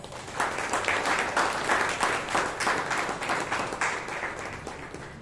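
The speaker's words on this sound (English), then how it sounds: "Let's give them all a huge round of applause." Steady applause from a club audience welcoming new Toastmasters members in Bangalore, a dense wash of many hands clapping at even strength throughout, with no voices above it.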